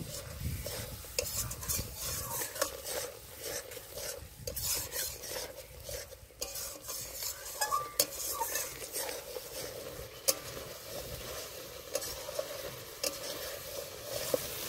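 Masala with a little black pepper powder is stirred and fried in a pan for a ritha fish curry: quiet, uneven scraping and clattering of a spatula over a soft sizzle.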